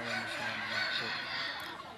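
Chickens clucking and squabbling over feed, the flock's dominant bird pushing in first; steady close-up fowl chatter fills the whole stretch with no pause.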